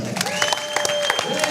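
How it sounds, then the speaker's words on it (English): An audience at a live fight event applauds the fighters in a brief burst of clapping, with a steady tone sounding through it. "Another round of applause for these fighters."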